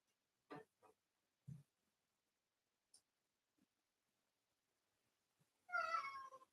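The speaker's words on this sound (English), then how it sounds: "My cat's already upset. He's crying about how bad the Mets stink." A cat gives one clear, drawn-out meow near the end, close and fairly loud, after a few faint scattered clicks and rustles in an otherwise quiet room.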